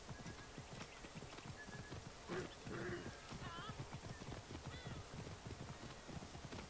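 Horse hooves clip-clop steadily at a riding pace in Assassin's Creed Origins, with an occasional neigh and faint game voices beneath the rhythmic hoofbeats.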